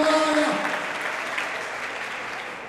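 Church congregation applauding for Jesus at a service, a dense wash of clapping that slowly fades out, with a faint tonal voice or instrument trace at the start.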